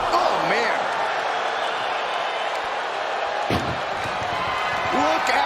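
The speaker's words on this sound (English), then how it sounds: "Look at the struggle just to shut that first door shut." A heavy ambulance door slams once amid a dense, noisy crowd roar, with a sharp impact standing out briefly in the middle, in the wrestling video game WWE 2K25.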